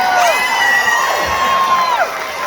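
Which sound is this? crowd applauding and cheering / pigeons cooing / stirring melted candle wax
crowd applauding and cheering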